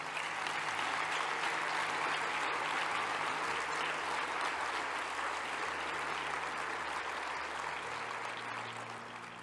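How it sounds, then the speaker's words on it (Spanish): Sustained audience applause fills the room at the PILOT 2019 awards ceremony, dense and even clapping holding steady before easing slightly toward the end. "la entrega y esos aplausos tan merecidos"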